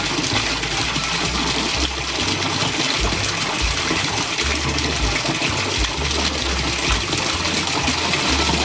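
A Pedrollini 1HP solar water pump forcing out a strong, continuous gush of water, a loud and unbroken rushing torrent heard close by with no talking.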